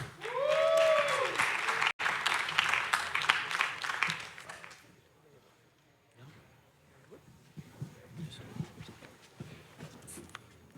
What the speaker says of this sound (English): Round of applause for Ajay